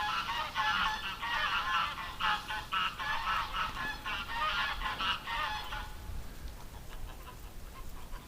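Ducks in a yard give a rapid run of honking calls for several seconds, moderately faint against a soft rain-like background hiss, and then they fall quiet.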